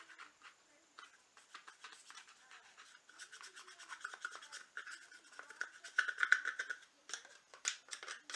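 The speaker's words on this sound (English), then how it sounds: "Kind of scrape it out the best you can." Debris is scraped out of a chainsaw in quick, rhythmic scratchy strokes that grow denser and louder midway, close and fairly quiet, with no talk.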